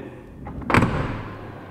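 A soft-close pull-in mechanism draws a camper van's sliding door shut, likely a FreeSpirit10. It gives one short, muffled thud up close, then a low fading rumble.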